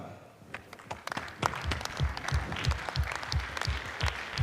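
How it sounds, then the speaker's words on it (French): Applause from a crowd at an international livestock evening in an arena after a horse presentation, building up with scattered claps, mixed with a regular low rhythmic thumping. "Vous pouvez encore les applaudir très très fort"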